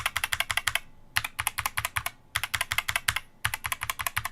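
Typing on a DK61 60 percent keyboard with Gateron Optical Yellow switches: close, crisp keystrokes come in quick even runs, broken by short pauses.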